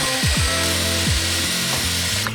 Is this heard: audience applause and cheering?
no